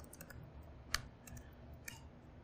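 Code is typed on a computer keyboard, with soft clicking keystrokes in a quiet room and a few sharper taps standing out, without any speech.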